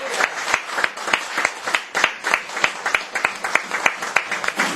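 A church congregation claps in fast, steady rhythm during a worship service in Chaco, Argentina, sharp repeated claps filling the space with no speech.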